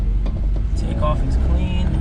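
Kei van engine starting and pulling away: a steady low rumble with a brief higher whine partway through, loud and close throughout, heard from inside the small van.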